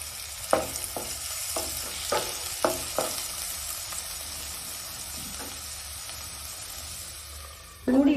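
Tomatoes sizzle quietly in a pan while a spoon stirs them, giving a row of short scraping knocks over a soft frying hiss, with a louder burst of clatter at the end.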